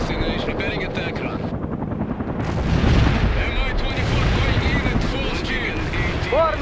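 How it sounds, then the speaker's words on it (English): A Mi-24 attack helicopter in the video game World in Conflict flies in at full speed, its loud, dense rotor roar mixed with booming battle noise and clanking effects. "Mi-24 going in at full speed."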